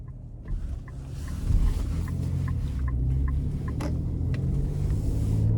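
A 2025 Nissan Armada Pro-4X with a 3.5-liter twin-turbo V6 drives on the road, giving a steady low engine and road rumble heard from inside the cabin, with no talking.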